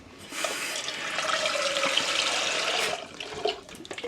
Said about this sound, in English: Once I've washed this pan